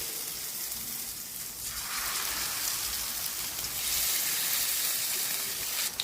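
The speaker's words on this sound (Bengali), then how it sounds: "এবার আমি একটা একটা করে ভাজতে দিচ্ছি" Chicken pieces frying one by one in hot white oil on a tawa, a steady hiss and crackle that swells as more pieces go in, moderately loud and close, with no talk.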